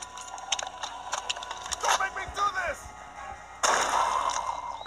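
Shotgun blasts from a zombie survival video game, a few sharp bursts mixed with tense, shouted talk and game effects, fairly loud and close.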